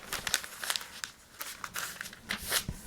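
Stiff scroll paper being folded over and over by hand up close, giving soft, irregular crinkles and rustles at a quiet level, with no talking.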